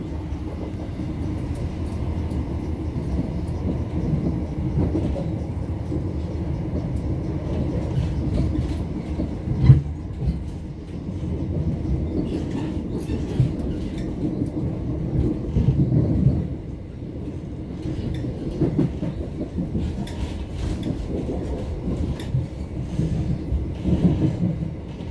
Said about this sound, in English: We are now approaching London Liverpool Street, where this train terminates.